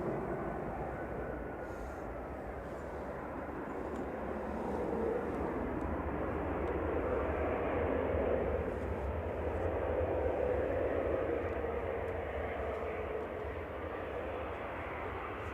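A Sun Boeing 737-800 jet from Prague on approach at Manchester Airport, its engine roar rising gradually from a distant hum to a steady, moderate drone and then easing slightly, heard alone.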